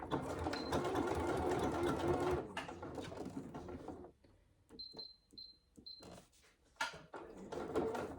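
Sewing machine stitching a saddle bag seam, a steady close whirring run that stops, followed by a few short bursts of stitching and handling noises.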